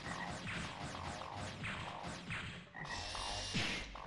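Frog croaks from the video game Megaman Legends 2 repeat in a quick, warbling rhythm of chirpy calls, layered over a busy game soundscape with a brighter burst near the end.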